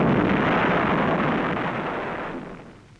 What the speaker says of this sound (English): The huge eye of the CinemaScope camera follows the sticks of bombs as they fall on the defenseless island